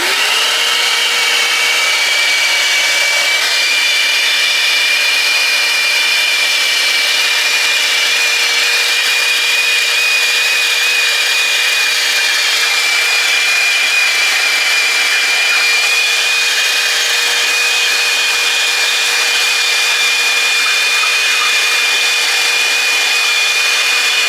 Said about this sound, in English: Go ahead and hit the vac.